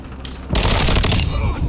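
Rapid bursts of video game gunfire erupt suddenly after a quiet moment and continue as a loud, dense volley.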